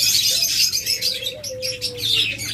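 A pair of dove-like cage birds, a local ghughu crossed with a South Australian breed, calls in a few soft drawn-out tonal notes, close and fairly quiet, over a steady hiss of background noise.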